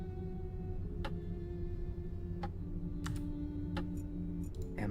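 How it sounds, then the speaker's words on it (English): Sparse, faint clicks from a puzzle mechanism in the video game Black Mirror III, a handful of short ticks spaced irregularly over a steady low background hum, with no talk. "I heard a clicking sound."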